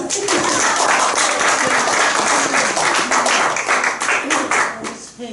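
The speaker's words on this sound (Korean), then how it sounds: "박수 한 번 주세요." Applause from a congregation during a church training session, a dense burst of clapping that holds steady for a few seconds and then thins out toward the end.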